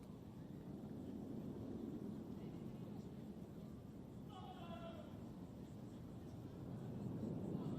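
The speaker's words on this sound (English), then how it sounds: "Planes overhead." Airplanes fly low overhead on approach to land near an outdoor girls' football match, a steady broad engine roar under distant crowd and commentary talk, with wind noise on the microphone.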